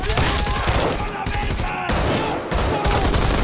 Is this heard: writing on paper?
no